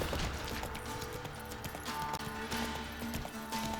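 Hoofbeats of the horse Roach in The Witcher 3 video game, a steady clip-clop rhythm with a possible brief whinny, heard clearly over game sounds and music with little talk.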